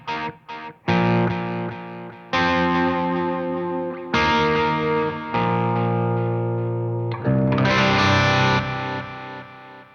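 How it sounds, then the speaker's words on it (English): Distorted electric guitar chords and notes ring out in bursts, each trailed by echoing repeats from a tape delay pedal that blur into the sound. "this is a tape delay"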